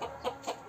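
A rooster clucks two or three quick times up close against a steady noisy background.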